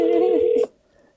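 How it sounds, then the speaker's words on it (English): A single telephone dialing tone rings out clearly for just over half a second, then cuts off abruptly, leaving a faint low background. "call again till Mama Bear pick up"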